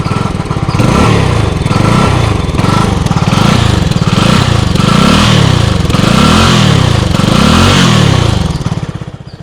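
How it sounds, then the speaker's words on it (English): A CFMOTO NK300 naked motorcycle is revved repeatedly while standing, its exhaust rising and falling in about six loud, close blips over a steady idle, with no talking. "Let's hear the exhaust sound of the bike."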